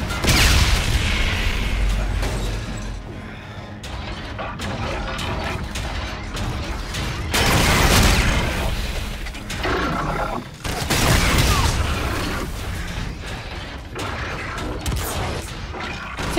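Explosions and heavy blasts in the Call of Duty: Infinite Warfare video game, loud booming bursts with rumbling mechanical roar and crashing debris, repeating throughout amid a dense wall of battle noise.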